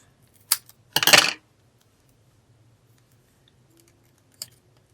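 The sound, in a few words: cutting a paper ticket in half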